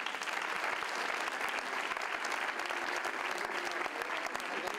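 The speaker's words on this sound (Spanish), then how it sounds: "Damos un aplauso de novo." An awards gala audience for a regional sports prize ceremony applauds a singer, a full, continuous roar of many hands clapping at even loudness from start to finish, no speech over it.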